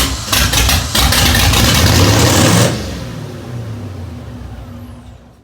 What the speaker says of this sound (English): I'm gonna turn it on without the fuel again, because I think it's still flooded.